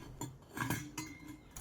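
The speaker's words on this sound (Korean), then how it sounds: "준비한 보온병을 눕힌 뒤에 달걀을 넣어주세요" Raw eggs set down inside a thermos lying on its side, a few faint light knocks and clinks over about two seconds, quiet and close, with no talking.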